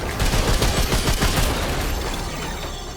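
Rapid gunfire in the video game Remnant II, a dense burst of loud, overlapping shots for about two seconds that fades into a rumbling tail.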